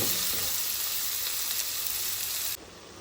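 Vegetable palya curry with onion, tomato and green chilli frying in oil with mustard seeds and cumin, giving a loud, steady close-up sizzle that drops in level just before the end.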